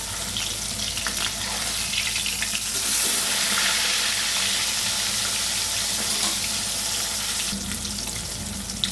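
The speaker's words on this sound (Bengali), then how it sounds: "মাছগুলো একটু কড়া করে ভাজবে" Pieces of katla fish fry in hot oil with a dense, continuous sizzle that fills the scene, steady and close throughout with no voices.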